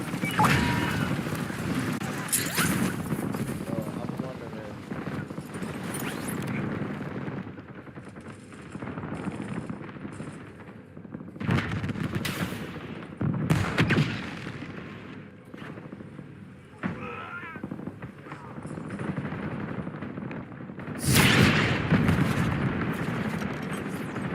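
Bursts of gunfire in a combat setting, rapid volleys and scattered shots that rise and fall over about twenty seconds, with a loud close burst near the end and occasional voices underneath.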